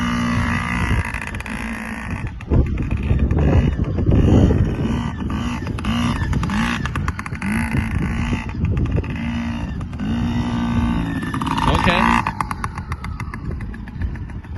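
A 2020 Yamaha PW50 kids' motorcycle rides laps in circles, its small engine buzzing steadily and rising and falling as the rider circles nearby, with no talking.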